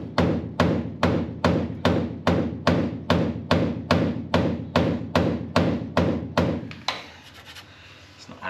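A hammer strikes a screwdriver to undo a stuck lock screw on a Holden HG Brougham, about fifteen sharp, evenly spaced metallic blows, loud and close, then quiet rustling.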